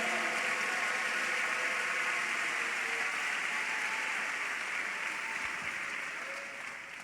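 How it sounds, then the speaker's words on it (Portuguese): A church congregation claps during a sermon, a broad, sustained wash of applause heard at a distance that fades slightly toward the end, with no speech over it. "Alguém aí consegue dar glória a Deus, aplauso, glória a Jesus e aleluia?"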